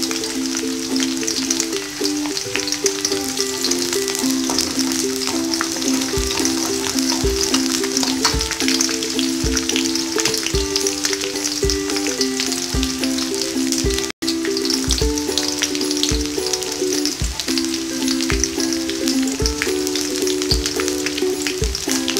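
Leaves sizzle and fry in a hot pan for a fish curry, with a dense, loud, continuous crackle and spatter up close, with scattered pops and light stirring knocks.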